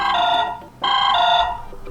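Andromeda ringtone playing on a Blackview BV9700 Pro phone, a bright synthetic tone sounding loudly in two rising phrases with a short dip between them.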